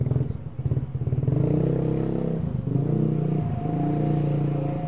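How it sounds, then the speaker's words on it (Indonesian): A Honda Vario scooter with a loud exhaust runs close by, giving a throbbing, pulsing engine note that rises slightly and stays steady for several seconds. "Oh, berisik banget knalpotnya."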